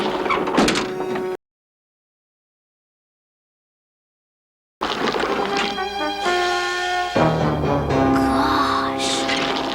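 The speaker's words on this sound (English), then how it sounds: "A secret door?" A cartoon secret door sliding open, with a whooshing scrape and chiming tonal effects after a stretch of silence, mixed with brief voice and music.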